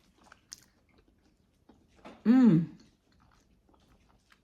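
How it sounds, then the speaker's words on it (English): One close bite and brief chew into a sandwich dipped in tomato basil soup, a short moist crunch standing out against quiet room sound. "let me try this soup and sandwich. Got my sandwich. I dipped it."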